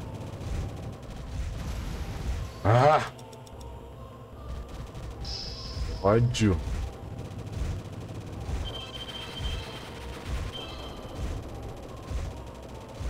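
Gunfire barrage in the arcade shoot-'em-up Progear: a continuous chattering stream of shots with two sharp swooping blasts, with a player's brief exclamation over it.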